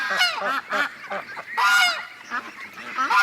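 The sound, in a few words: ducks quacking and honking in barn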